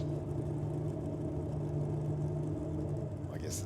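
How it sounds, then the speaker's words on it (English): A tiny 290 cubic inch Chevy drag racing engine at a nitro drag meet gives a steady, loud rumbling roar close by, with a brief higher burst near the end. "Tiny little 290 cube Chevy on board for John Kuiper."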